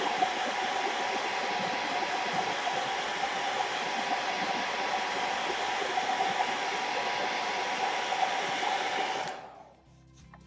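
A hair dryer blows steadily and loudly close by, drying a watercolour mountain landscape painting, then cuts off near the end.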